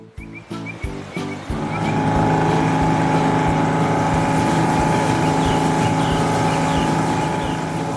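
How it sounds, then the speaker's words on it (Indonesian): An animated large ship cuts steadily through the water, a continuous loud engine drone with washing surf that swells after a few clipped opening bursts and then holds steady. "Lihatlah kapal besar itu membelah air dengan tenang."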